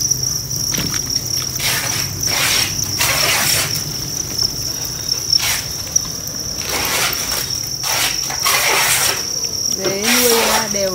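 Farmed crickets kept on cardboard egg trays chirp in a constant high-pitched drone, with bursts of rustling and handling noise and a voice talking over them.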